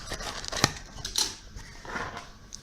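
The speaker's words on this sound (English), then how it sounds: "Let me cut this again" Scissors cut through the packaging of a Samsung Galaxy A8+ (2018) phone box, giving a few sharp, close snips and crisp clicks with quiet pauses between them.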